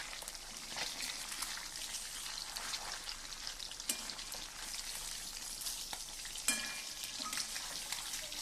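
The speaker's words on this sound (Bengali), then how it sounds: "আর এখন দেখো আমি এই মাছগুলো সবগুলো ভেজে নিচ্ছি" Pieces of fish frying in oil in a pan give a soft, steady sizzle and crackle throughout, with a few sharper clicks of stirring and no talking.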